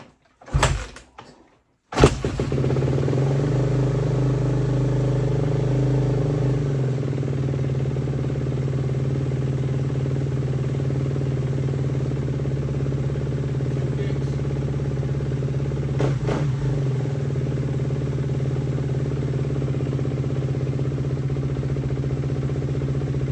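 A 2014 Kawasaki KX450F dirt bike with a hard-starting problem is kick-started: a brief scuffing kick, then the engine catches and settles into a loud, steady, close idle that holds for about twenty seconds, with a few small clicks over it.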